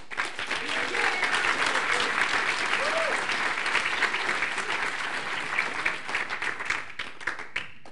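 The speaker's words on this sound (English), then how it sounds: "round of applause for everyone" An audience applauds at the end of a developers' show-and-tell event after the final presentation, a dense, steady wash of clapping from many hands lasting the whole stretch.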